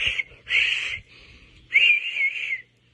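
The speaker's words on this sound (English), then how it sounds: "I see people running, I blow the whistle." Shrill whistle blasts, one short toot followed by two longer piercing blows, loud and close with brief pauses between.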